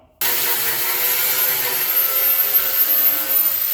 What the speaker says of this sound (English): nasty used flat disc I had laying over there on the bench, and it seems to be taking it off rather than taking a wire wheel